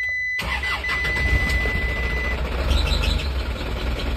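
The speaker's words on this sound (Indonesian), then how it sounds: "Nah, ini kita coba untuk starter, sudah nyala" Isuzu Elf NMR 71 truck engine catching with the starter, then settling into a steady, loud diesel idle heard up close, with faint bird chirps in the background.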